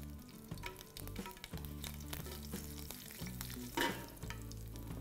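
A slit green chili drops into hot coconut oil for tempering, giving a steady, close sizzle and crackle with a brief louder spatter partway through and no talking.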